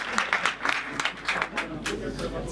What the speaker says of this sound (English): Please give a big round of applause for Ralf on stage.